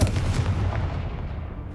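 The Confringo fire spell goes off in Hogwarts Legacy with a fast burst of booming blasts that cracks like artillery, then fades into a dying rumble.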